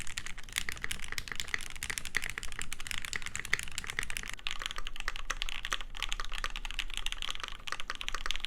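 Rapid, steady typing on a Foundation Gamma TKL mechanical keyboard gives a dense run of close, crisp keystroke clacks with no talking.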